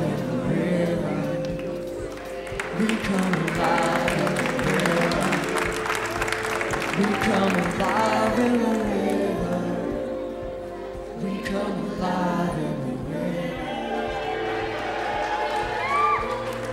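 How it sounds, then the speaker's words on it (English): At an outdoor mass baptism, a large crowd applauds and cheers steadily, with loud clapping and whoops throughout, some voices mixed in, easing briefly midway before building again. "Why are they cheering?"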